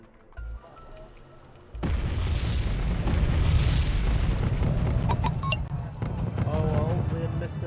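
Mortar explosions in the video game Wargame: deep, heavy booms and a sustained rumbling roll, loud and close, followed by scattered pops and crackles, with a voice talking over parts of it.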